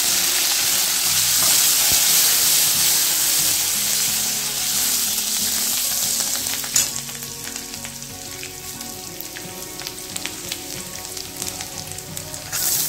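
Curry leaves and garlic hit hot oil for a tempering, giving a loud, dense sizzle that settles after a sharp crackle into a steadier frying hiss with small pops.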